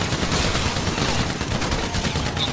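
Gunfire in a short film, a continuous loud rattle of rapid shots filling the whole moment without pause, close and harsh.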